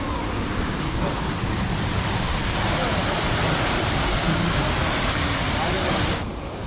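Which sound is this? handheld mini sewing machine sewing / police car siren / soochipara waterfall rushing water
soochipara waterfall rushing water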